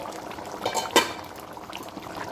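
Fried fish simmering in fish curry in a covered pot, a soft bubbling and gurgling with a few brighter pops, steady and close.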